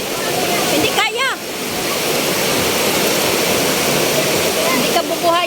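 A strong water current rushes loudly and steadily as a broad, continuous roar, with people talking briefly over it near the start and again near the end.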